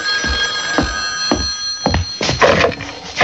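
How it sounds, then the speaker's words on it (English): An old-style telephone bell rings in a radio drama, sounding as a few separate bursts of ringing over a kitchen scene with clattering, fairly close and clear. "Herb, the phone."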